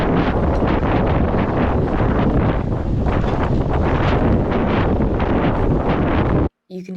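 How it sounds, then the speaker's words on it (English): Strong wind buffets the microphone on a beach during a gravel bike race, a loud, unbroken roaring rush that gusts and swells throughout before cutting out abruptly near the end. "You can hear from the wind just how ridiculously strong the wind was"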